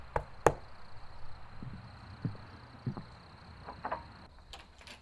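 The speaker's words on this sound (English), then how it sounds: "Knock on the front door and..." Knocking on a front door: a few separate sharp raps spread across the moment, fairly close, over a quiet room with a faint steady hum in the background.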